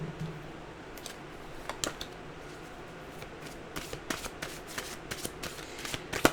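Mantra cards being shuffled and drawn by hand, soft papery riffles and flicks coming in quick irregular bursts, close and quiet with no talking.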